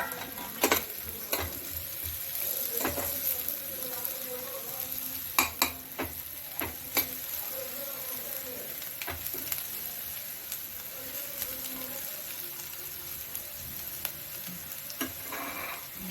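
Crushed garlic sizzles and fries in oil for a pepper chicken gravy, a steady close crackle and hiss with scattered sharper pops and a few stirring clicks throughout.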